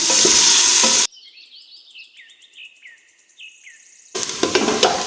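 Onions dropped into hot oil in a pressure cooker sizzle loudly for a moment, then the sizzle returns a few seconds later. Between the two bursts, faint chirping tones are heard.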